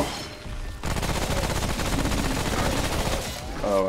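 Sustained rapid automatic gunfire in the co-op shooter Remnant From the Ashes, a loud, dense burst of shots running nearly the whole clip after a brief opening moment, with a voice briefly heard at the start.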